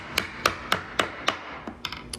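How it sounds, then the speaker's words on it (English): A hammer pounds bolts into the tight holes of a picnic table being assembled. Five sharp, evenly spaced blows ring out close by, followed by several lighter, quicker taps, with no talking. "it's recommended to use a hammer to pound them in"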